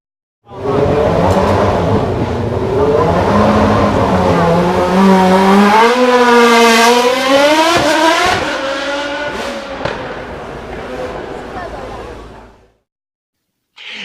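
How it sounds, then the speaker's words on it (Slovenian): A loud 1980s Porsche-built turbo V6 Formula 1 engine from a McLaren car revs up and down through several gear changes, its pitch climbing and wavering, then dies away to silence. "poslušamo, kako je zvenel tisti motor tak, ki ga je izdeloval Porsche pri ekipi McLaren"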